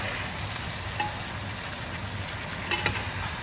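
Kosha mangsho, meat cooking down in its own released juices over high heat, gives a steady dense sizzle with a few faint stirring scrapes, close and continuous, with no talking.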